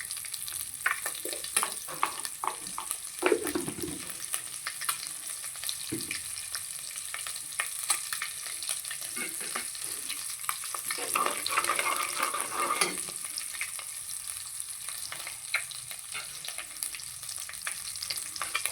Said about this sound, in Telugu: కొద్దిగా వేగనిద్దాం